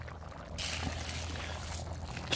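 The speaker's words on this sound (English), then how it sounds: "I'm just going to pour the whole box in." A full one-pound box of uncooked elbow macaroni pours into boiling water in a Dutch oven, giving a steady rattling, hissing rush that fills the clip, close and fairly loud.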